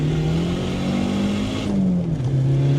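A turbocharged Volvo 940 engine is held at high revs near the limiter, giving a loud, sustained droning roar with a slight dip and recovery in pitch, heard from inside the car with no talk.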